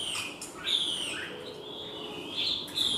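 A red-billed leiothrix, a wild-caught songbird kept in a cage, sings a string of bright, fluid whistled phrases and chirps, fairly near and clear over quiet background noise.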